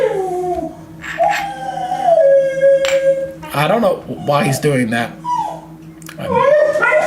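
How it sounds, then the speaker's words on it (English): Dogs indoors give long rising howls and whimpering yips, loud and close, with a voice talking over them in between. "I don't know why my dogs are going crazy."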